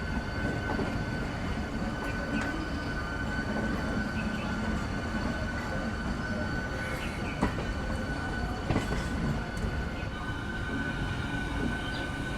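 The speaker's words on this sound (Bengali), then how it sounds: "ট্রেন তো আমাদের একদম নির্দিষ্ট সময় ছেড়ে দিল 6টা বেজে 45 মিনিটে হাওড়া থেকে দীঘার উদ্দেশ্যে তাম্রলিপ্ত এক্সপ্রেস" Tamralipta Express from Howrah to Digha running along with a steady, even rumble of carriages on the rails, continuous and moderately loud with a few faint clicks and squeaks, no voices.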